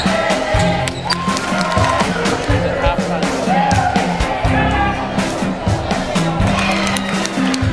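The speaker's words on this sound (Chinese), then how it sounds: "当时作为对方校友的观众就在克拉克上场后疯狂起哄嘲讽，并在她罚球时大呼小叫" A rowdy high school basketball crowd jeering and heckling, a dense continuous roar of shouts and yells with scattered whoops, loud and sustained, voices overlapping throughout.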